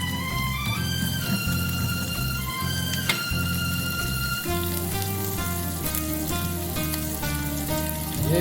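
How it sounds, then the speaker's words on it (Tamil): Cardamom, flower and cinnamon frying in hot oil, a steady fizzing sizzle running throughout, heard close with soft music in the background. "ஏலக்காய் ஒரு பூவு ஒரு சிறிய பட்டை பொன்விரல்ல வறுத்துக்கலாம்."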